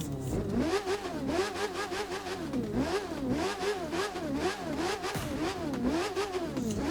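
A motorcycle engine in the racing game The Crew 2 revs steadily and loudly throughout, its pitch rising and falling in repeated waves with no talk over it.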